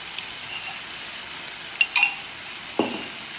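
A spoon stirs chopped carrots through a sizzling filling in a pan, with a steady soft fry underneath and a few brief clinks of utensil against metal.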